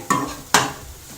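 Paneer masala gravy being fried in a pan: two short, sharp scrapes of a spoon against the metal over a faint sizzle, close and without talk.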